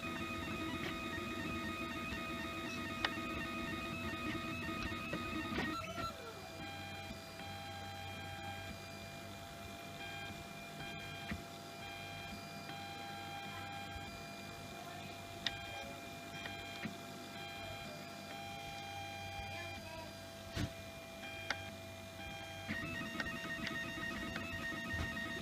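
A 3D printer runs steadily through a first print, its stepper motors giving a sustained whine with shifting tones and small clicks, a brief change in pitch partway through, with no voices.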